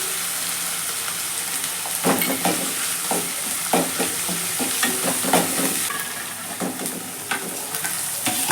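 Ginger-garlic paste, cumin and fennel powder fry in hot oil in a pan, a steady bright sizzle broken by repeated scraping stirs of a spoon against the pan, close and fairly loud, with no talking.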